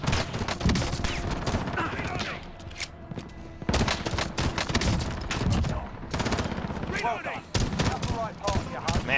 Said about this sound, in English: Oh, I'm getting shot in the back.